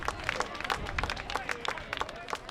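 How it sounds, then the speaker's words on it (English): A crowd at a university field lacrosse championship semi-final cheers and claps after a goal, a fairly distant, modest swell of applause and shouts under a commentator's voice. "Crowd loves that one here too."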